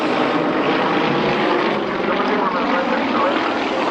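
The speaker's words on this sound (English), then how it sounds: "This aircraft was designed for aerobatic" A propeller-driven aerobatic aircraft performs at the Ulster Airshow in Newtownards, its engine a loud, continuous drone that fills the air without letup, heard close and steady.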